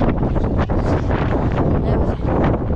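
Strong wind during a desert sandstorm near Dunhuang, roaring loud and continuous across the whole stretch as a broad buffeting rush with gusty swells, no voices present.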